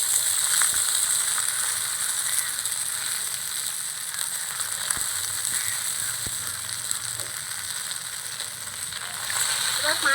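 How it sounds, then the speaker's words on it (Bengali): Leftover rice tiffin frying in a pan, a continuous close, even hiss of sizzling oil with a few light stirring taps and no talk. "এবার 5 মিনিট মতো আমি ভাজা ভাজা করে নেব।"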